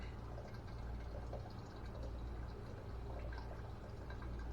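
Liquid is poured and splashes steadily while a barbecue sauce is being measured in a kitchen, a continuous near wash of sound with no talk.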